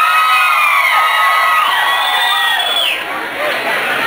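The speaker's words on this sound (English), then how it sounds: "Let me hear some ladies scream for chocolate." A live concert crowd of women screams and cheers loudly, a dense chorus of high shrieks and whoops that fades slightly toward the end.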